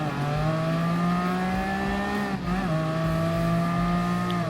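A white and gold Ferrari Enzo in Gran Turismo Sport holds a loud, steady engine drone at high revs, with a brief dip at a gear change before the whine climbs again.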